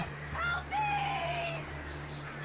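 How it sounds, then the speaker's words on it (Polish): Birdlike rooster-style crowing calls in the video game Alan Wake, two rising and falling cries over a low steady hum, fairly close and clear. "Gdzie są te ptaki?"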